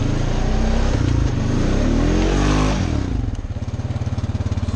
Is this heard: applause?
no